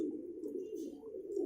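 Pigeons in a loft give a soft, low, continuous cooing, faint and close, with no voices.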